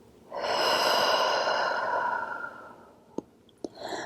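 A slow, long exhale through the mouth during an intermediate yoga flow, a close, breathy whoosh lasting a few seconds that fades out, followed by a couple of small clicks and a faint stir of breath.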